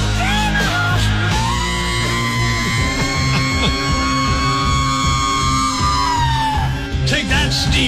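A high, sustained screaming vocal wail imitating a rock singer, held over loud dense band music with a crowd-like roar behind it.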